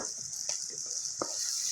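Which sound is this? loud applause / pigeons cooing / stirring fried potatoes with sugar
stirring fried potatoes with sugar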